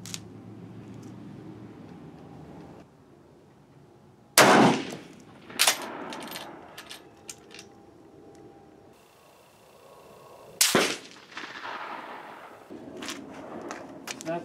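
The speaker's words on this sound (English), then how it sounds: "So I'm gonna try to shoot a group now." Rifle shots fired at a target with a standard rear diopter sight while shooting a group, a few sharp loud cracks spaced seconds apart over quiet outdoor background.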